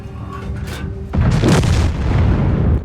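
A tank cannon fires in World of Tanks, one loud, close boom that rolls on into a long low rumble, with no talk over it.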